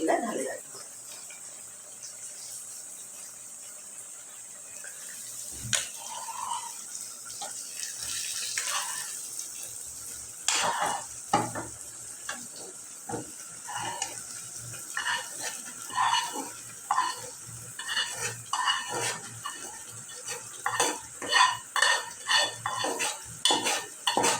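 Fried potato and pointed gourd being stirred into boiled mutton in a pot, with scattered metallic clinks and scrapes of a spoon against the pot, growing busier and more rhythmic toward the end over a quiet background hiss.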